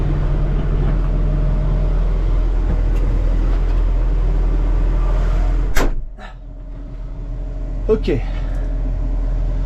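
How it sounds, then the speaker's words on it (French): A tractor-mounted seed drill's turbine fan turns slowly at field sowing of faba beans, a low steady rumble and hum under a brief spoken word, broken by a couple of sharp clanks. "Ma turbine tourne doucement là."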